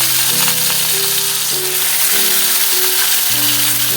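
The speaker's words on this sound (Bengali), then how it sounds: "এবার আস্তে আস্তে মাছগুলো ভেজে নিই" Fish fry in mustard oil in a pan, a loud, constant hiss of sizzling that runs unbroken throughout with a melodic tone underneath.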